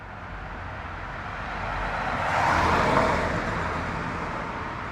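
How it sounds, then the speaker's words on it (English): A car drives past on a road, its steady whoosh swelling to a peak midway and then fading away, with faint traffic noise underneath throughout. "the cars passing by"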